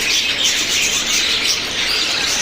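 Finches in a cage chirp as a dense, continuous twittering while they bathe in water in hot weather. The sound is steady and fairly loud, with no talking.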